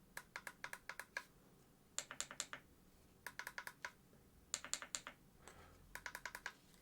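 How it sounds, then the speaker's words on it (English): Clicky buttons on a Cube Controls F-Pro steering wheel are pressed in quick bursts of four to six sharp, crisp clicks, separated by short pauses, close and clear with no talk. "The buttons themselves feel very clicky."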